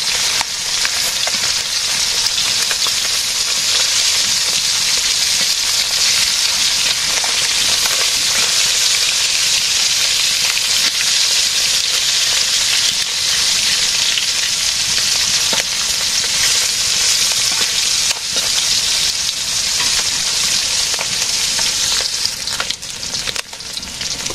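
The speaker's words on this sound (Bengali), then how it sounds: "মাছ ভাজি হয়ে গেছে, যেহেতু ভাজি খাবো না অতটা করা দরকার নেই।" Fish fries in a pan of oil, producing a loud, dense and continuous sizzle with constant fine crackling that holds steady for over twenty seconds, close up and free of talk.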